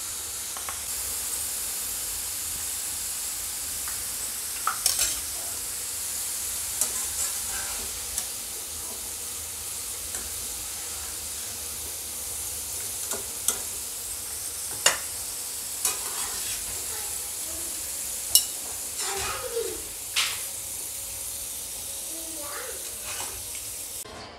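Thin potato slices for batata chivda deep-fry in hot oil over a high flame, giving a steady, even sizzling hiss with scattered sharp pops and crackles throughout and no talking.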